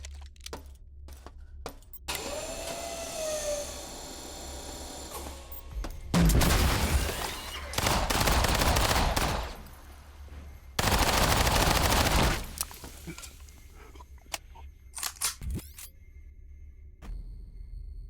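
Video game combat with bursts of automatic gunfire and a gas grenade going off, loud rapid volleys in several separate bursts with quieter gaps and scattered single shots between them.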